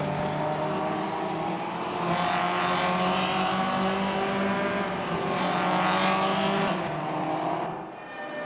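Sim racing cars in a video game cross the finish line with a continuous, loud engine drone, pitch rising and falling as cars pass close by, before fading out at the end.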